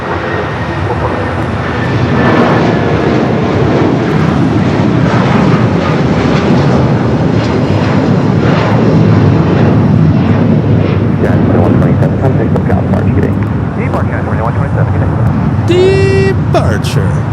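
Boeing 757 jet departing Los Angeles International Airport for Newark, a steady loud engine roar building and sustained throughout, with a brief tonal radio or voice burst near the end.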